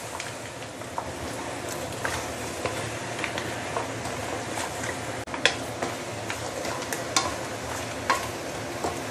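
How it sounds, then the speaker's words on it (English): Pork leg is stirred in caramelized sugar in a pan, giving a steady, busy sizzle with scattered clicks and scrapes throughout. "the caramelized sugar will be coating over your pork leg"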